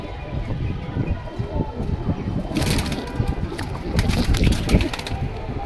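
Black military-breed male pigeons coo and stir at a pigeon sale in Keraniganj, Dhaka, soft cooing and wing rustles over a busy outdoor background with sharper bursts of activity in the second half.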